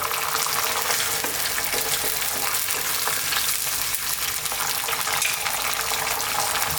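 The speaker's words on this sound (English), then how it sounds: "We're now going to add that 1 tin or can of those tomatoes." A can of tomatoes going into a hot frying pan for spicy arrabbiata sauce, a loud, constant sizzle and bubbling with faint stirring, close and without talk.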